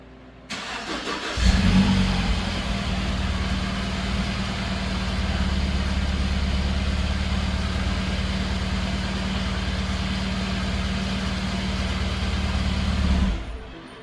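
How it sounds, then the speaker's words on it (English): A 2014 Mini Cooper with a random misfire cranking and starting, then settling into a loud, steady idle for about twelve seconds before being shut off; no talking. "I'm going to start it and then shut it off and monitor fuel pressure."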